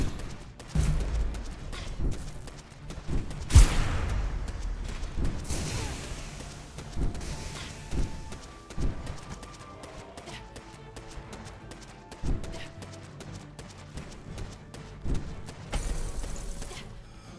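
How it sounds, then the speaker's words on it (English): Repeated explosions in the video game Shades of Rayna: booming blasts and crashing bursts mixed with rapid gunfire-like rattles, scattered unevenly throughout at moderate loudness. "Hopefully the explosions aren't too loud this time around."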